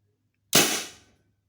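A single Tippmann paintball marker shot fired through a chronograph, one sharp close pop with a short hissing decay after a quiet lead-in.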